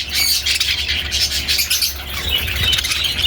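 Parakeets in a DIY flight cage chatter and squawk continuously in a dense, busy flock, close and loud, with no talking.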